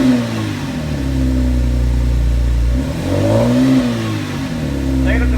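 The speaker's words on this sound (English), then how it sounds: "Go ahead and rev it up." Chevrolet Camaro 3.6L V6 fitted with a Gibson performance muffler revs up twice, the engine note rising and falling in two swells over a steady idle rumble, close by.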